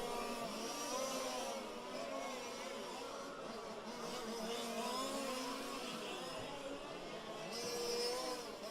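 Fifth-scale RC race cars run down a back straightaway in an A main race, engines whining and droning continuously at a moderate distance, with pitch rising and falling as they pass and an announcer speaking over them.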